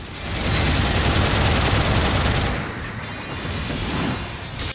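Head-mounted Mark III Vulcan guns on the Phenex mobile suit in Gundam Battle Operation 2 fire in a loud, rapid burst for about two and a half seconds, then lighter rattling and mechanical noise trail off.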